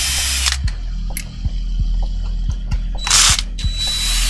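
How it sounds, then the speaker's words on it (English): Ratchet undoing screws on a robot build at a workbench, a steady fast clicking of the pawl heard up close, with a couple of brief louder hissing bursts over a constant mechanical hum. "I guess we're gonna be undoing those screws."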